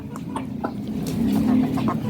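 Hens on a rooftop pecking at a bowl of homemade monsoon-season feed, giving soft, close clucks and murmurs over a low steady background, with brief sharper calls scattered through.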